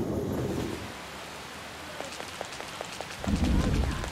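Steady rain falls in the video game Persona 5 Royal, a continuous hiss of drops with scattered faint ticks, swelling with low rumbling noise near the start and again at the end.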